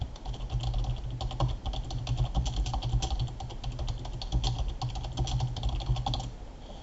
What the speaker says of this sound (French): Je tape un suivi à destination du demandeur.